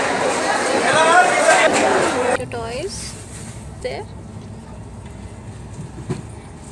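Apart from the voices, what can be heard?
crowded railway station with passing train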